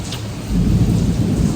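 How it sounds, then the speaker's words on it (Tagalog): Thunder rumbling over heavy rain in Macau, a deep swelling roll that builds after a short lull beneath a steady wash of downpour, loud and close, no speech. "ang lakas nga ng kulog"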